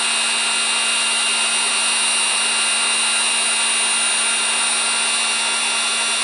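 A heat gun blows steadily on heat shrink tubing over a crimped wire splice, a constant close, loud hiss and fan hum with a faint tone throughout and no talking.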